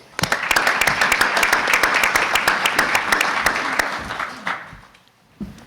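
A breakfast-event audience gives managing partner Jeff Naig a round of applause, dense clapping that swells, holds for about four seconds, then fades away to a couple of stray claps.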